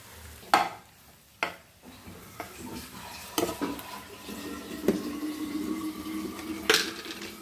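Egg fried rice with coriander being stirred in a hot pan, a spatula scraping and knocking against the metal in irregular strokes over a steady low sizzle, with no talking.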